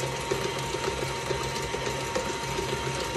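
An electric mixer whirs steadily and loudly through Linzer cookie dough, a constant motor hum with faint rhythmic ticking and no voices.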